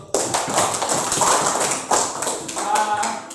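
Students clap together in a short burst of applause in a high school class, dense overlapping claps starting sharply and continuing steadily, with a brief louder surge midway.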